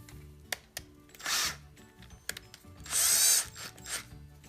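Close, dry mechanical clicks and a ratcheting whir as a drill chuck is twisted by hand, in short bursts with pauses, over quiet background music.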